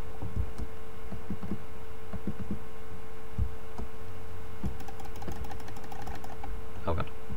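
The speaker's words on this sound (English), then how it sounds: "You can hear me clicking." Computer mouse clicks during a Minecraft-style modded game session, irregular sharp taps scattered over a steady low electrical hum, fairly close and moderately quiet, with a brief burst of faster clicking near the end.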